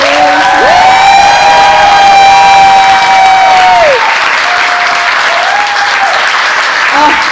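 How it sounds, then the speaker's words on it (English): An audience at a youth art program's summer showcase breaks into loud applause and cheering for all participants, with a high sustained whoop riding over the dense clapping and a few shorter shouts following. "can we have one more round of applause for all of our participants?"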